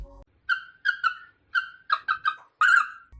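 Pet bird imitating a sound: a series of short, clear whistled chirps in an uneven rhythm, about eight bursts, close and alone with no talking over them.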